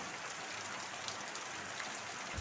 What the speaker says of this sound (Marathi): आता एका तासानंतर पावसाचा जोर हळूहळू कमी होतो आहे